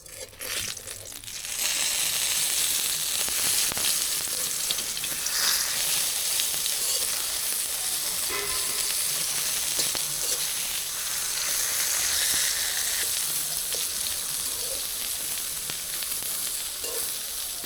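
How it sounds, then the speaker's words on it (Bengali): Eggplant slices frying in oil in a pan, flipped to the second side: a steady close sizzle with crackling pops and a few scraping turns, continuous after a brief quiet start, no voices. "আমার বেগুন ভাজা এক পিঠে হয়ে গেছে, এখন আর এক পিঠে উল্টে দেব।"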